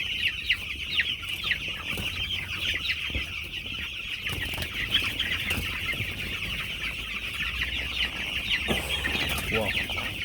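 Broiler chickens on a village poultry farm cluck and chatter continuously as a dense flock, nearby and fairly loud, with a few sharper calls standing out over the steady din.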